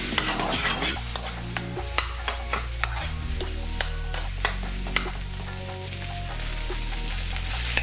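Pork fried rice being stirred with soy sauce in a hot pan, a steady sizzle with repeated sharp scrapes and clinks of the utensil over a low background hum.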